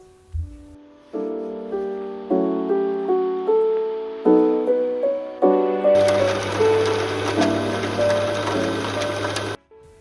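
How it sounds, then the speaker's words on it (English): Sewing machine stitching the long side seams of a pleated dress, rapid rhythmic mechanical whirring in repeated bursts that speed up and grow louder, close and alone with no talk. "I stitched from my armhole to my pocket allowance and then from the bottom allowance to the pocket all the way to the end of the dress"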